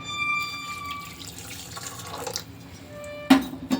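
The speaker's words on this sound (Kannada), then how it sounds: "ಇನ್ನೂ ಸ್ವಲ್ಪ ನೀರು ಹಾಕ್ತೀನಿ" Water splashes and trickles briefly into a vessel, with a few clinks of metal and a short louder pour near the end.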